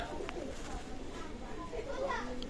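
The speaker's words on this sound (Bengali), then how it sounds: "ওমান ব্লাড লাইনের টেডি কবুতার" Teddy pigeons of an Oman bloodline coo softly in a loft, a continuous low murmuring under a voice talking over them.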